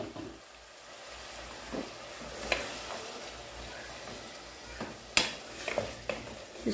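Marinated boneless chicken and green chillies being stirred in a frying pan, a steady close sizzle broken by scraping stirs and a few sharper clinks of the utensil toward the end.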